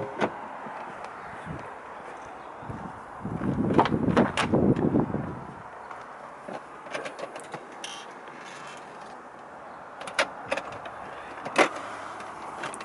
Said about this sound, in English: the rear seats are operated with these buttons here